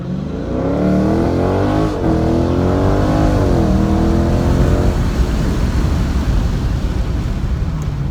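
A 2019 Dodge Challenger Scat Pack on ET Street R tires launching hard in street mode, its loud V8 climbing steadily in pitch through a gear change and holding a strong roar, close and alone.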